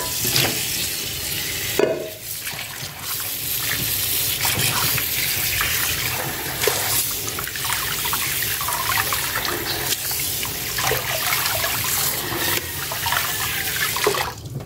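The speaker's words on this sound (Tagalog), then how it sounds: "Isang hugas pa guys." Chicken is rinsed under a running tap, a steady close gush of water splashing over the meat in a sink, with faint occasional clatter and no talk.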